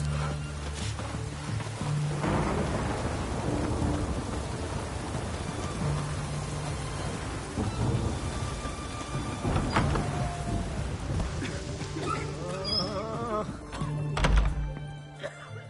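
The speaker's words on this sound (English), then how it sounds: "It's damp. It's raining. Of course it's going to be damp." Rain and thunder in the video game The Witcher 3, steady rainfall with dull thunks and low rumbles of thunder, under occasional voices.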